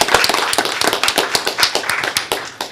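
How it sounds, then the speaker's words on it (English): A small group applauds at a university board of trustees meeting: scattered, uneven hand claps, close and fairly loud, lasting a few seconds and thinning toward the end. "I think that deserves an applause."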